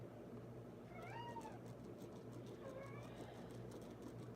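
A pet cat meows twice, a rising-falling call followed by a shorter one a moment later, over a steady low hum in an indoor room.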